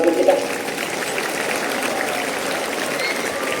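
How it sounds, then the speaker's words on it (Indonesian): Students applauding their teachers at a school ceremony at SMP Negeri 6 Pekanbaru, a steady wash of distant crowd clapping with a voice briefly audible at the start. "Mari anak-anak sekalian kita tepuk tangan untuk para guru kita."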